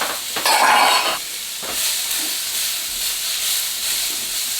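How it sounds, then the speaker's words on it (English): Onions and capsicums sautéing in a pan for a kūmara and chickpea stew, a loud hissing sizzle that swells at first and then settles to a steady, close fry. "We're just going to saute them"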